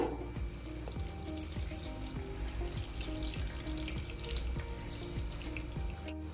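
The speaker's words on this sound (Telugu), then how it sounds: "ఇప్పుడు దీంట్లో నేను చల్లటి నీళ్ళైతే పోసేస్తున్నాను" Cold water pours steadily into a metal pot of soya chunks up close, a continuous rushing splash with faint ringing taps against the vessel.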